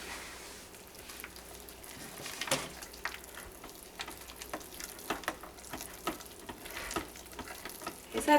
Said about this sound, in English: I'm just going to stir this up with my spoon